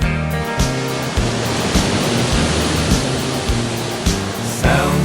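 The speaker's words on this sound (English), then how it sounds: "Waves go crashing on the rocks." Ocean waves crash against rocks as a continuous loud broadband roar with regular surges, set under a steady rhythmic musical beat.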